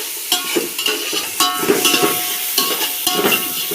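Green chilies frying with onions and tomatoes in a pan for a simple biryani, a loud close sizzle with bursts of stirring and spatula scrapes.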